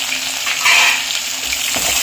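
Onions hit hot oil with curry leaves, bursting into a loud, close sizzle that holds steady and then crackles briefly near the end.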